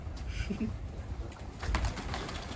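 Soft pigeon cooing comes in low, brief calls against a faint background hum, fairly quiet and close, from a pigeon perched on a coop board on a rooftop.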